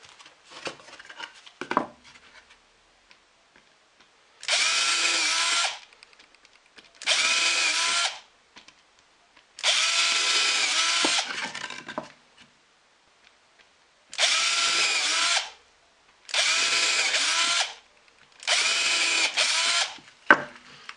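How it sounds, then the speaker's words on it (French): Power drill boring holes in wood for a storage box: six whining bursts of a few seconds each, separated by short pauses, after a few light clicks and knocks at the start. "Donc voici tous les trous percés. Je fais la même chose sur la deuxième."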